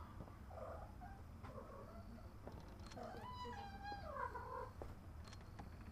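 Cats at feeding time indoors, with soft meows and a rising, drawn-out cry over a low purring hum and room noise, close by and without talk.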